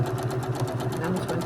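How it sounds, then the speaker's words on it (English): Domestic sewing machine stitching quilt block pieces, a steady rapid mechanical hum with even needle pulses, close and continuous for the whole moment. "turn them and I'll sew on the other side of that line for all of them."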